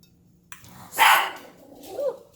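A small dog gives one sharp, close bark in a quiet kitchen, followed by a softer, shorter yip a moment later, with no talking.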